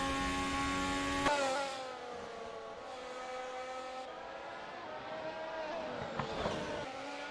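A racing car in an F1 sim racing game at Interlagos spins its wheels, a loud, high whining engine note rising and falling steadily for several seconds, heard alone.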